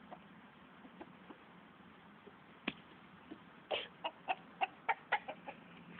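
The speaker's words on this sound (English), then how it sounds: "we have some chickens here" Chickens cluck close by on a farm at feeding time, a run of sharp, evenly spaced clucks building in the second half over a quiet background.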